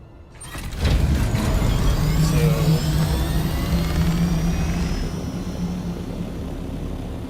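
An aircraft in the Dune video game flies between two bases, giving a steady, loud engine drone that swells at first and then eases slightly as it continues.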